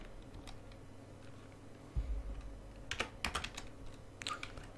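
Quiet keystrokes on a computer keyboard, a few scattered clicks and then a short run of quick typing over faint room hum, close and soft.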